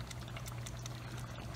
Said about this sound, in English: It's bubbling to the top.